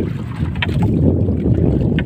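Strong wind buffets the microphone at sea aboard a small fishing boat, a constant loud rushing roar with faint water splashes underneath and no voices.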